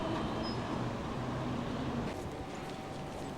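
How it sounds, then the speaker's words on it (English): A tram runs through Dnipropetrovsk city center, a steady low rumble of wheels on rails with a faint squeal, moderately distant and fading slightly toward the end. "Trams at the city center."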